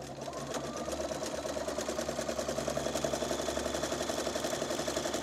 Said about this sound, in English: Just stitch right down the middle, satin stitching right over the cording or the braid